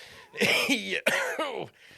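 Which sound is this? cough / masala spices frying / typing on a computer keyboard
cough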